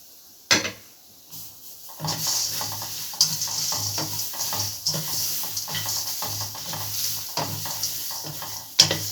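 Grated coconut stirred into a pan of Malaysian fish head curry made with giant golden snapper, giving a steady soft scraping and bubbling texture with occasional sharp utensil clinks against the pan, close and fairly quiet.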